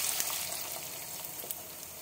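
Water added to potatoes and drumstick pieces frying in mustard oil with five-spice tempering in a kadai, producing a continuous close, soft crackling sizzle with scattered small pops and no talking.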